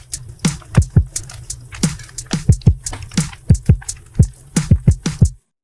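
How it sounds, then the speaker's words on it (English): Punchy drum pattern of regular low kicks and sharp hits, layered with a long ambient loop washing underneath, steady and dense for about five seconds before stopping abruptly. "On top of the drums, it'll sound like this."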